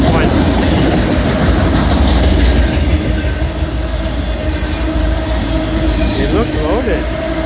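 Freight train hauling wrecked cars rolls past in a steady, loud, continuous rumble with rhythmic clickety-clack of wheels over rail joints and a brief metallic squeal near the end.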